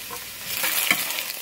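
A tortilla sizzling in a hot pan greased with lard after being flipped, a close, steady crackling hiss with small pops and no talking.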